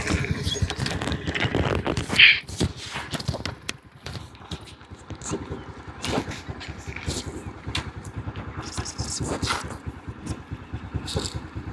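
A vehicle engine idles in a forest, a steady low rumble running throughout with rattling and clattering on top and a louder knock near the start.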